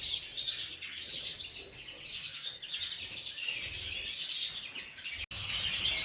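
Young colour canaries in a birdroom chirp and twitter continuously, a busy, bright chorus of overlapping tweets at moderate distance with no voices.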